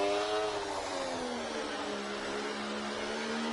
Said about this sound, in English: That's why I say it's a Ferrari engine sound.